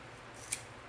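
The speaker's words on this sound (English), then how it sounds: "Don't be scared to use your scissors." A single quick snip of scissors cutting fringe for a bubble rainbow wreath, one short crisp cut over a quiet background.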